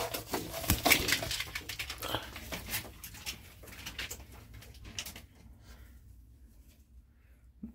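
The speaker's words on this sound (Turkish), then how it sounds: "Bir tane de yabani güvercinimiz var." Wild pigeons coo softly at close range, low murmuring calls scattered through a rustling, noisy background that quiets toward the end.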